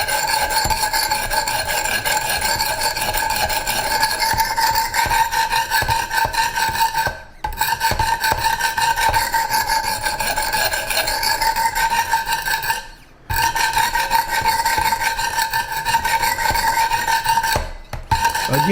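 Steady, gritty rasping of a Strider SMF knife edge being sharpened on a Wicked Edge commercial sharpener, continuous coarse strokes broken by three short pauses, close and loud with no talking.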